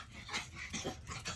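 A dog whimpers and strains in a few faint, breathy, choked bursts, struggling to get a bark out, close to the microphone with no speech.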